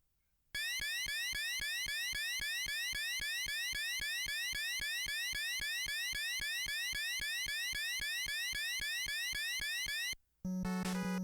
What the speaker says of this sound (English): his spaceship that he flies around in every single game sound like this.